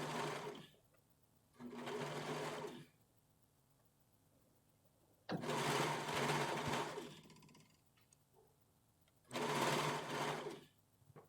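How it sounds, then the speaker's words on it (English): A serger overlocker sews along a fabric edge of a doll dress, buzzing in four steady bursts of a few seconds each with quiet pauses between them, close and clear with no talking. "Lock in your stitches, serge the edge."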